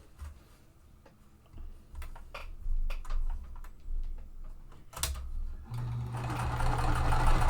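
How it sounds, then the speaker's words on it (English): A sewing machine stitching quilt pieces, starting with short bursts and ticking clicks as the fabric is lined up, then running into a steady, louder whirring hum toward the end, close by. "I'm going to sew the top one first"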